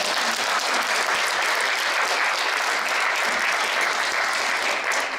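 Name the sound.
audience applause after a lecture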